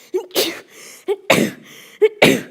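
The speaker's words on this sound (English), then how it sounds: "Don't worry. I always sneeze in threes." Three sneezes from a woman, each with a short sharp intake and a loud burst, evenly spaced about a second apart, close and clear.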